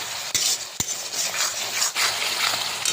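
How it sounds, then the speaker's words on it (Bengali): Cumin, coriander and garam masala powders are stirred into a hot pan of cooked-down spice paste for a gati kochu dalna, with steady loud sizzling broken by sharp spatula scrapes against the pan. "এবার একটু ভালো করে নেড়ে চেড়ে নিতে হবে"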